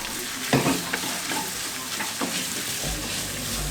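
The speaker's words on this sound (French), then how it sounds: "Et là je vais mettre mon ail et mon oignon. Et on va le faire dorer." Garlic and onion frying in a pan, a dense close hiss with a few spoon scrapes and knocks as the pieces are stirred.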